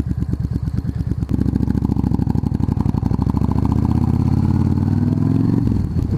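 A motorcycle engine chugs loudly and close, its rapid rhythmic firing rising in revs as the rider turns along the road, then cutting off sharply near the end.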